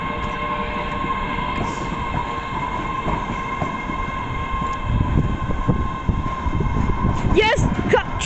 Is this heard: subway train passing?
yes